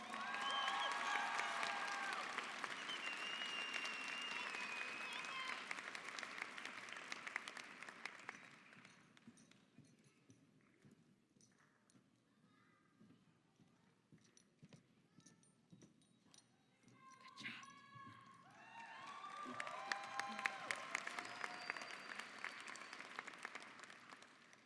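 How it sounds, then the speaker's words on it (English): A graduation audience at Mountain View High School's 2017 ceremony applauds at length, a dense wash of clapping that thins out midway, leaving scattered claps and murmurs, then swells again near the end. "Please give Ms. Gemma Campa a round of applause."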